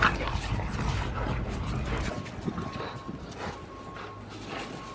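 Two French bulldogs play tug of war indoors, giving faint, scattered growls and snuffles mixed with rustling and scuffling close by.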